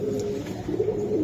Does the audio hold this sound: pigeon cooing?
yes